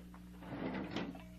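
Drawer slid open during a search for a key: a short, faint wooden scraping rumble close by over a steady background hum.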